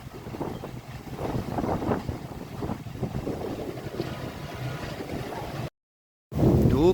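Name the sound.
strong wind and heavy rain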